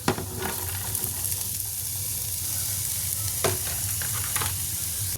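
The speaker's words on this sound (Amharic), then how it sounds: "ሽንኩርቱን አብሬ ጠብሳለሁ ማለት ነው" Onion and garlic fry in a pan with a steady, close sizzle that holds for the whole stretch, broken by a few sharp stirring scrapes.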